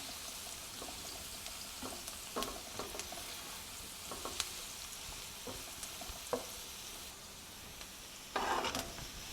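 Rice frying and being stirred in a pan for chicken fried rice, a steady soft sizzle broken by scattered scraping clinks and one louder stir near the end, with no talking.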